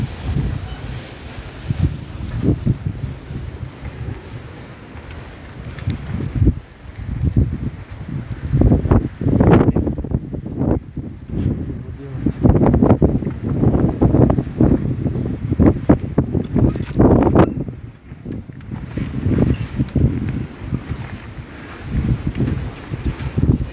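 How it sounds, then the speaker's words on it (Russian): Strong wind in a Kazakh village near Pavlodar rumbles and buffets the microphone in loud, gusting waves for the whole stretch, with heavier blasts in the middle and no voices. "Настолько ветер разгулялся"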